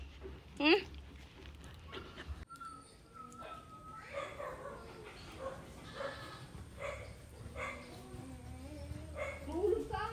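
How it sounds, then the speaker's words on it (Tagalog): Dogs, including a Siberian Husky, bark and yip intermittently, with a whimper, while a person talks nearby; birds chirp faintly in the background. "Ayan guys, ang ating mga alagang aso."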